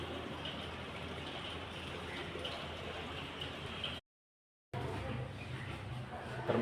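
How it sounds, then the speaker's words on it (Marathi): Rain falls through the night as a soft, even hiss that stays steady and faint, with a brief silent gap partway through. "रात्रभर पाऊस पडतोय."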